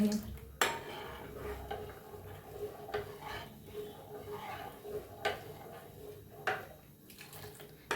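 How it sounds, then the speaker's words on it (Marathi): Milk custard being stirred in a pot as it cooks, with a spoon scraping and knocking against the metal in repeated strokes and a few sharp clinks, close up, with brief soft murmurs of a voice. "हलवायचं बघा असं हलवत हलवत घट्ट होतंही"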